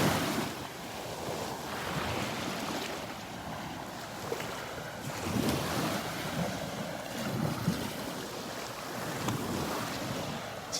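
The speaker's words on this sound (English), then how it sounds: "Even with these waves, it's looking gorgeous." Ocean surf washes onto a Gulf beach at Delnor-Wiggins, a continuous roar of breaking waves with gusty wind buffeting the microphone throughout and no voices.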